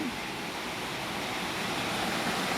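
Clear water of the Pabitin River rushes over large stones in a steady, loud, close wash of broadband noise that never lets up.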